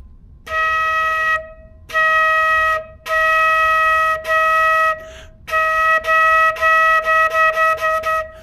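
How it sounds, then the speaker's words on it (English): Steady, clear tones from a flute head joint alone, a series of separate notes each held about a second, with brief gaps between and quicker tongued notes toward the end. "I'll play the right note"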